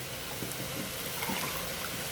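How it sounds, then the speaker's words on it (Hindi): Water being poured into a cooking pot while making white yakhni chicken pulao, a steady soft splashing stream running continuously at moderate volume without any talk. "अब हम इसके अंदर 4 गिलास पानी ऐड करेंगे।"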